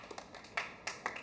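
A small group gives sparse, faint applause to welcome a company product director at a staff gathering: a few scattered, uneven claps over a short stretch.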